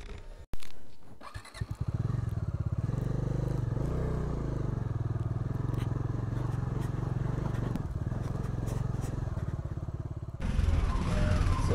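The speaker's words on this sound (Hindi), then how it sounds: "यहाँ से आगे मैं बाइक से जाऊँगा" A motorcycle rumbles steadily close by, its engine note holding through a ride near the Bijli Mahadev temple in India, with a sharp clatter at the start and a brief shift in tone near the end.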